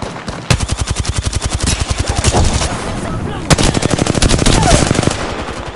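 Rapid automatic gunfire in a first-person shooter video game rattles in long, loud, evenly spaced bursts, with a brief break before the firing resumes.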